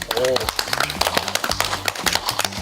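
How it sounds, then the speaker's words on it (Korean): A small group clapping as a round of applause, quick irregular hand claps close by, mixed with voices talking. "다크블러드 앨범 활동을 너무 무사하게 너무 잘 맞춘 여러분들께 돌리는 박수입니다"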